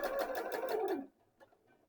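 A sewing machine runs a quick burst of back stitching to secure a double pointed dart, stitching steadily for about a second before stopping, followed by a few faint clicks and handling sounds.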